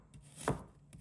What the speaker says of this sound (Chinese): 1块生姜，把它切成片。